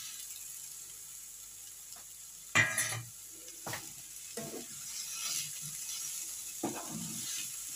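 Cauliflower and potatoes frying in spice masala, a low sizzle under a handful of scraping stirs of the spoon against the pan, one sharper clatter near the start and the stirs spaced irregularly after it.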